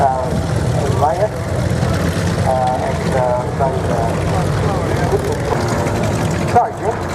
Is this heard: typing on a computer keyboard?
no